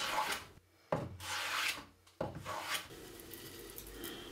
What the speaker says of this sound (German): ich hobel einfach lieber. Es macht weniger Staub